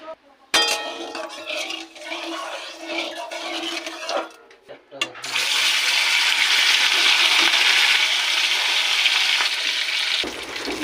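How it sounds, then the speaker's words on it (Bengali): Silver carp pieces frying hard in hot oil in a wok, a loud steady sizzle that starts up after a short stretch of clinks and stirring and carries on alone to the end. "মাছটাকে কড়া করে ভেজে নিয়েছি"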